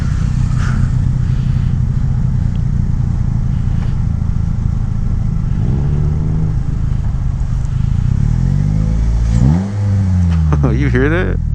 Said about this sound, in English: Especially when you blip the throttle on your downshifts.